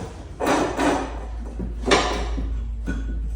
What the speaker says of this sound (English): There, spin it. That one's a little bit noisy, still good.